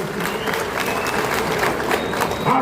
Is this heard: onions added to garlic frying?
no